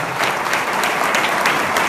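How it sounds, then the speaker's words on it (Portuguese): Lecture audience applauding a guest speaker, a steady dense wash of many hands clapping at close range, continuous and loud throughout with no talk over it. "Pessoal, mais uma vez, uma salva de palmas."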